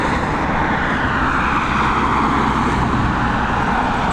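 An aircraft at Dublin Airport produces a continuous, loud, broadband engine roar that holds steady throughout, with no talking.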